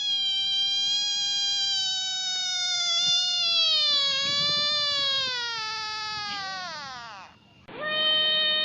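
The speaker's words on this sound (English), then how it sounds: "There was a frog." A frog croaks in the animated series The Adventures Of Polly And Ranny: one long, tonal, steadily held call that slides downward in pitch, then breaks off and is followed by a brief, sharp second call, loud and close.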